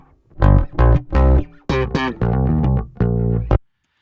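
Overdriven ChromaGlow saturation distortion in Logic Pro, pushed far too high, produces loud, harmonically rich buzzing tones in several separate bursts, then cuts off abruptly into silence.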